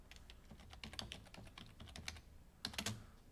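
Keys clicking as code is typed on a computer keyboard, quick uneven strokes at close range ending in a louder burst of taps, no voices.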